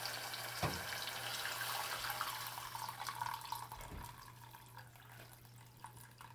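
Warm water is poured into a hot pot of Ethiopian shiro stew, a soft, steady splashing stream that stays fairly quiet, broken by a couple of dull knocks.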